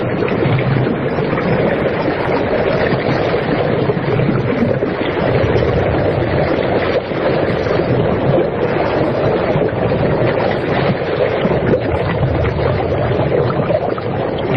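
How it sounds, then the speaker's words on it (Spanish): Loud, steady sea noise from a mysterious recording made in Mallorca, a continuous broadband wash of waves with no pauses and a faint, hollow undertone in the background. "Nos parece el mar con una serie de ecos muy extraños de fondo"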